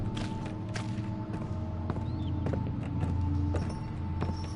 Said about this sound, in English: Am I supposed to follow the footsteps?